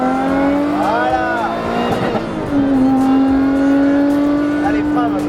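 A Nissan GT-R sports car accelerates on a race circuit, its engine tone climbing steadily with a gear change midway, loud and close, while an instructor talks over it.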